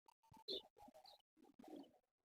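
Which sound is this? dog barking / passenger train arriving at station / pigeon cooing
pigeon cooing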